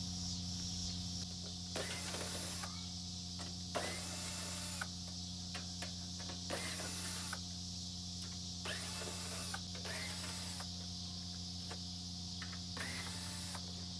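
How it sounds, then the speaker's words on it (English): A power driver whirs in short bursts to back quarter-inch screws out of a metal top cover during scrapping, each burst separated by pauses over a constant background hum, close up and with no talking. "We got some 1/4-inch screws on the top. We're going to remove them."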